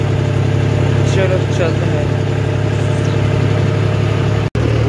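A Mahindra tractor used as a bulldozer idles with a steady, loud low-pitched engine rumble throughout, while someone talks briefly over it.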